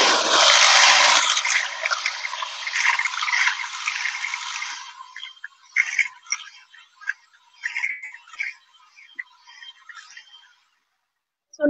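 Electric beater mixing recipe batter, a loud whirring buzz for about five seconds, then stopping and followed by intermittent softer scraping and tapping sounds.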